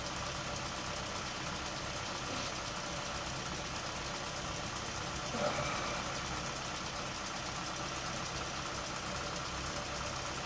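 An engine runs rough as if starving for gas, a steady loud mechanical drone with uneven knocking vibration and one brief surge midway.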